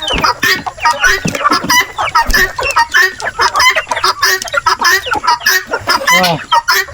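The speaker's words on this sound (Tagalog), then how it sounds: "Darag native chicken." A flock of Darag native chickens clucking loudly and continuously up close, overlapping calls with occasional louder squawks and a distant crow.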